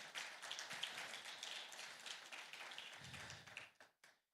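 A conference audience at ICERA 2025 claps for the day's moderators, a dense, steady patter of many hands that holds for about three and a half seconds before tapering off and stopping.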